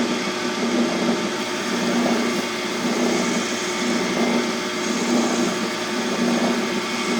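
A metal lathe takes a light finishing pass of two thousandths on a steel test bar, giving a steady, even whir and hum from the machine close by with no pauses.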